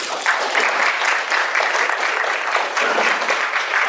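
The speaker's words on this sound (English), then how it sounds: "I'd like you to hold any applause until the end of the meeting, please." An audience at a congressional candidates' debate applauds steadily, a dense wash of clapping from many hands that holds at an even level for several seconds with no voices over it.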